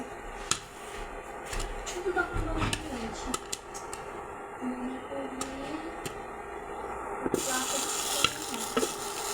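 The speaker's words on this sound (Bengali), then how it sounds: "ফুটতাছে দেখি সাদা কালার পপকর্ন" Month-old corn kernels popping in a spoonful of oil inside a pot, sharp scattered pops cracking irregularly over a steady sizzle, close and fairly loud.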